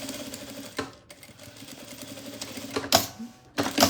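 Sewing machine stitching closely along a zipper tape while making a fabric zippered pouch, a steady rapid mechanical chatter with brief pauses and a louder burst of stitching near the end, no talking.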